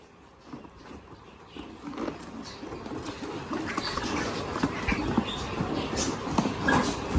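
Pigeons being caught and put into a net, with steady wing flutters, soft scuffling and faint cooing close by, growing slightly busier toward the end, with no talking.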